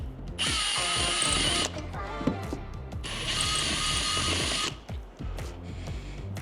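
A power drill bores a bolt hole through plastic bodywork on a Polaris UTV during a spare tire rack install, whining steadily in two close bursts of a second or so each, with a short pause between them.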